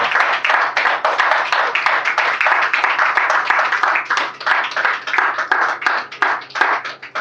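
Church congregation applauding during a French-language service, dense steady hand clapping from many people lasting throughout, with a faint voice underneath.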